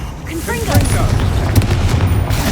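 Confringo fire spell blasts in Hogwarts Legacy, loud bursts and booms layered over a voice shouting spell names throughout.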